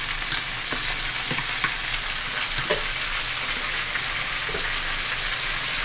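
Herbs hitting a hot pot of Jamaican brown stew chicken send up a loud, continuous sizzle and frying crackle, with scattered stirring clicks and scrapes throughout and no talking.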